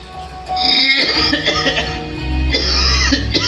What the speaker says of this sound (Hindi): आप खांसना बंद करोगे प्लीज?